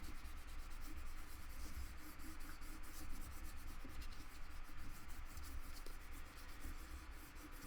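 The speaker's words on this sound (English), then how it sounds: "maybe rub it from the back." Paper artwork rubbed from the back, a continuous dry scratchy rasping with a quick repeated stroke rhythm, close and steady throughout with no talking.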